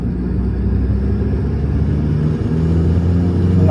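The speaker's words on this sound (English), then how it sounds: "Starts right up. Got AFR current because it's still hot and we are good to go. All right, there we go. Wide open throttle." A tuned Audi TT 225 Mk1 8N engine held at wide open throttle produces a loud, steady rumbling drone that builds slightly toward the end.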